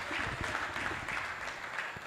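An audience claps for a speaker at a tech convergence event, giving a dense, steady patter of applause throughout with no voices.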